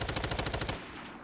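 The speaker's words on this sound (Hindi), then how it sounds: "ये कोई गोलियां मारने लग गया" Rapid automatic gunfire from the Call of Duty video game, a close, loud burst of about a dozen evenly spaced shots that stops abruptly, leaving a short fading tail.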